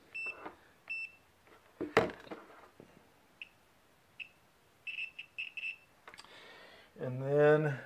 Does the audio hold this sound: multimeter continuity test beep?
yes